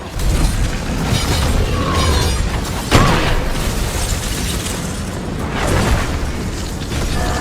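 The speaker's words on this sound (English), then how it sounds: "I throw some fire on his ass." Fire spell striking an ice giant in Dragon Age Inquisition, a loud burst of fiery impact with a sharp crack near the middle, amid ongoing rumbling battle effects.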